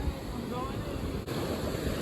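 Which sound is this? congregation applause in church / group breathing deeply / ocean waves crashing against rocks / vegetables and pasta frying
ocean waves crashing against rocks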